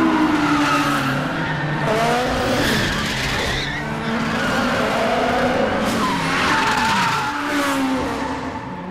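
Car drifting in Gran Turismo 5 on a mountain road, with a strained engine rising and falling and long, loud tire squeals that swell and fade across the whole stretch.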